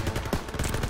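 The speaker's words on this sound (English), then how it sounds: "MGs, open fire." Dense machine gun fire from a World War II battle in the Call of Duty WW2 campaign, loud continuous rattling bursts filling the whole moment with no pauses.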